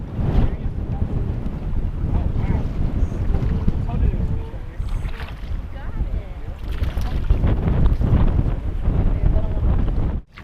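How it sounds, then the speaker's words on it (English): Strong wind buffets the microphone on a lake during bass fishing, a heavy low rumble with gusts, while someone talks over it. "It's super windy out here."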